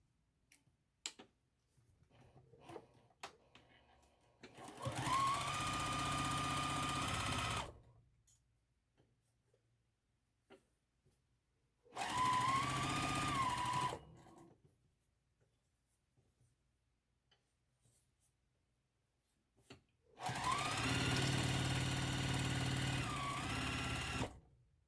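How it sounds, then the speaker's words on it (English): Three separate runs of a sewing machine stitching across quilt block rows for a churn dash quilt, each a few seconds of steady close motor whir, separated by quiet pauses with small handling clicks. "We're going to line this up and sew across there."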